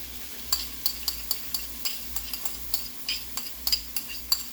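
An egg mixture cooks in oil in a pan and is stirred, giving a soft steady sizzle with regular light scraping taps from the utensil, fairly close and quiet, with no voices.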